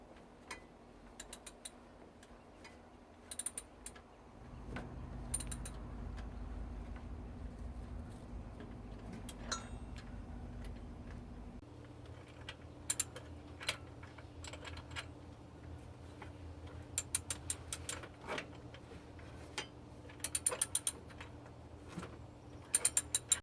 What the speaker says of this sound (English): I use a socket wrench to loosen the bolt